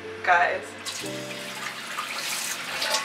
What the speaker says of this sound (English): I'm so in love with the sink that I just had to put so much water in.